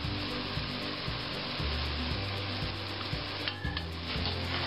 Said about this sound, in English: We'll stir this a little bit